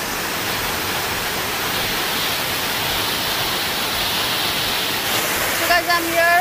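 The Pagla Jhora waterfall in the hills roars steadily in monsoon flow, a dense, continuous rush of falling water heard up close, with a few faint extra sounds near the end.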